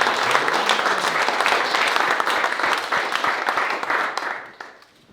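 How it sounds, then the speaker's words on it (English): An audience at a pre-season racing press conference breaks into loud, dense applause, many hands clapping close by for about four seconds before it quickly fades out. "Let's just give a big round of applause"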